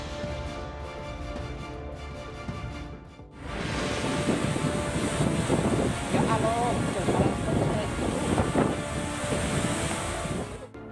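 Strong wind and heavy rain lash Banyumas, a loud, steady roar of gusts and downpour that swells abruptly after a few seconds and stays dense to the end, with some voice-like sounds faintly mixed in.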